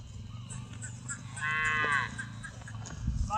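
Cattle on a herding farm in Cameroon, a single loud drawn-out moo rising in the middle, with lower grunts and faint voices in the background.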